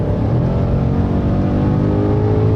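A BMW M5 Competition roars hard under full acceleration, a loud, dense and steady engine note filling the whole moment with no gaps.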